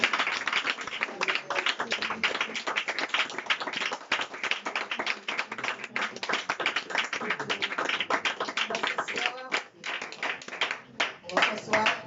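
A church congregation claps steadily and loudly throughout, with voices calling out in acclamation mixed into the dense, continuous applause and a few brief dips near the end.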